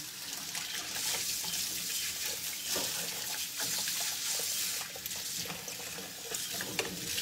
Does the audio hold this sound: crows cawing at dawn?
no